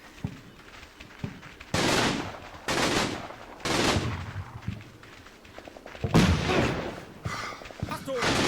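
Squad gunfire in the Combat Mission war game lays down a base of fire: loud, sustained bursts of rifle and machine-gun fire, about four long volleys with short gaps, followed by quicker rattling shots near the end.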